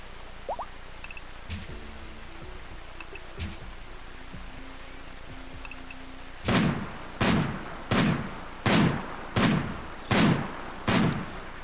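Gunfire in the colony game RimWorld as a colonist shoots at squirrels: quiet game ambience and faint clicks, then seven evenly spaced sharp gunshots about one per second, loud and close, with no speech.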